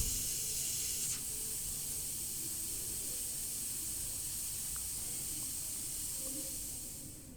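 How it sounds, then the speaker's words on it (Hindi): Steam hisses steadily from a pressure cooker of dal with chicken once the stove is turned off. The release is loud and continuous, fading slightly at the end, with no speech. "तो जी स्टीम करती हूँ मैं यहाँ पे रिमूव।"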